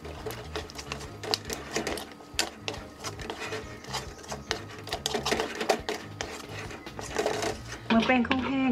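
Taro daifuku dough is stirred continuously in a pan over low heat, giving steady close scraping and tapping, with a voice talking over it throughout.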